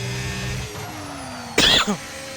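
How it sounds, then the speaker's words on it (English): A short, sharp cough bursts out twice in quick succession over a low background hum. "hopefully stop coughing"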